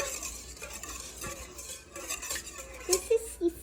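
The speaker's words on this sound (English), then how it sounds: "we're going to whisk that together" Zucchini bread batter whisked in a bowl, a soft irregular scraping and swishing close by, ending with a few light clinks of the whisk against the bowl.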